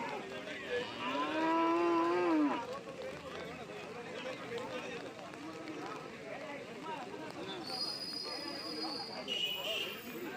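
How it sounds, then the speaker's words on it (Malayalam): A water buffalo at a busy cattle market lets out one long, loud, low moo. Steady crowd chatter and market bustle fill the rest, with people talking throughout. "റാമ്പിലൊക്കെ ഇഷ്ടംപോലെ പോത്തുകൾ ഇനി നിൽപ്പുണ്ട്."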